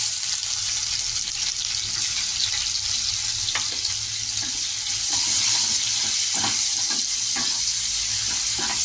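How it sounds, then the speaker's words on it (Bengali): Chopped onion hits hot oil and fries with a continuous loud sizzle. Intermittent clinks and scrapes from stirring come through close by. "আর কিছুটা আমি একটা পেঁয়াজ কুচি করে রেখেছিলাম, এখন তেলে দিয়ে দেবো।"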